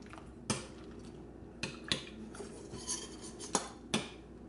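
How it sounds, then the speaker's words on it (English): A slotted spoon stirs vegan buffalo cauliflower wings in a pan. Quiet metal clinks and scrapes come at irregular intervals against a low background hum, with no talking. "Take your slotted spoon. Stir them around."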